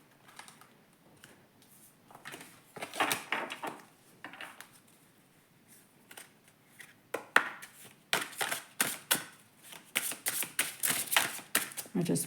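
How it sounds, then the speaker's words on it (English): Rapid clusters of crisp, papery slaps and riffles, close and fairly loud, coming in irregular bursts as tarot cards are shuffled by hand. "I've cleansed the cards. I just need to shuffle them as I go along"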